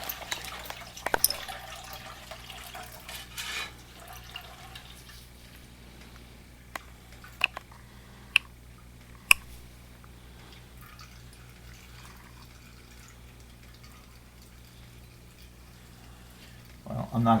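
A faint trickle of water from a pump line settles into scattered single drips, a few sharp drops standing out against a quiet, steady background hum, with talk at the start and end.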